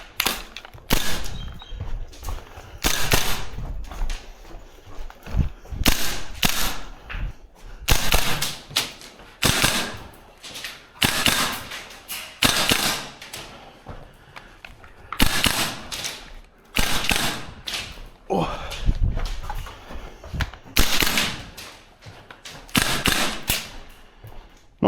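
A VFC URGI V3 gas blowback airsoft rifle with a suppressor, firing in repeated bursts of sharp mechanical clacks separated by short pauses across a long stretch; no talking.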